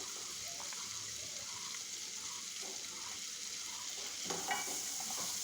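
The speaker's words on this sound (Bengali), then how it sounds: "মশলা কষানো হয়ে গেছে এখন আমি দিয়ে দিচ্ছি কাঁঠালের বিচি" Jackfruit seeds added to cooked-down spice masala sizzle steadily in the pan while being stirred, a soft continuous hiss with faint scraping, no voices.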